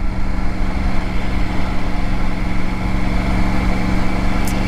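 A Triumph Tiger Rally Pro 900 motorcycle engine runs at a steady, loud, close drone with a low throbbing tone and no speech over it.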